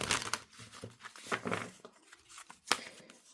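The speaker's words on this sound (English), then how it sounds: "I want to shuffle it one more time." Tarot cards being shuffled, a run of crisp papery riffles and slaps in irregular bursts, close and fairly loud with no talking.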